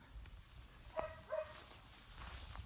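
Ben, a 16.5-week-old puppy, gives two short, faint yips about a second apart, heard alone in a quiet room.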